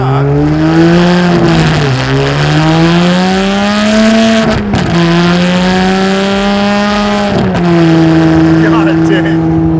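A custom Ferrari 612 V12 revs loudly through its exhaust, the pitch climbing and falling in several sweeping blips with brief gaps between them, heard close and strong.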